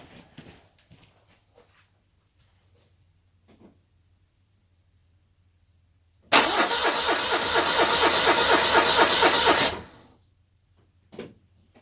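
A car engine cranks without starting because there is no spark at the plugs, giving a loud, steady, rhythmic churn of about three and a half seconds after a long quiet stretch with faint clicks.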